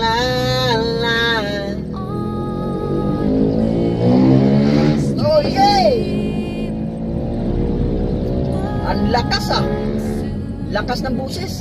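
Loud buses passing on a road during a delivery drive to Valenzuela, their engines droning with rising and falling tones close by, while people talk over the traffic.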